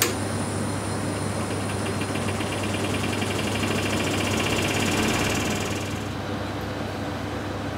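A small cocktail-lab distillation machine in a bar laboratory starts and runs with a steady, loud mechanical hum and whirr that holds evenly for about six seconds, then drops off abruptly.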